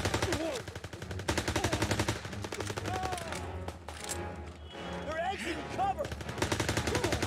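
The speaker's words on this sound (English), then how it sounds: "I think I'll switch my guns with an automatic gun." Automatic gun in Call of Duty WW2 firing continuous rapid volleys throughout, loud and steady, mixed with other busy game sounds.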